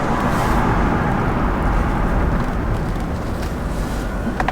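Engine of a 2007 Chevrolet Tahoe LT with 256,000 miles pulling hard under acceleration on a road test drive, a loud, steady, broad drone with road and wind roar and no talking.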